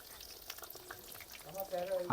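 Chicken nuggets frying in hot oil give a faint, close sizzle that swells slightly near the end of a very short stretch.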